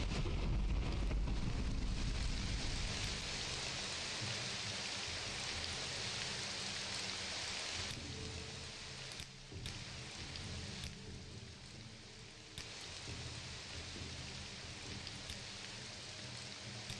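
Steady broadband rain pours across the Morrowind game world, loud and constant with a softer dip in the middle, no voices over it.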